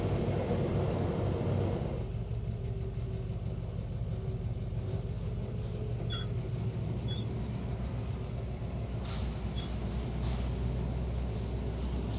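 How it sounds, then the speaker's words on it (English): A deep, rumbling, warmed-up stock 265 V8 with straight-pipe exhaust idles steadily, its low throaty exhaust tone continuous, with a few brief light clicks and taps partway through. "That exhaust sounds way better than it should for being straight pipes on a stock 265."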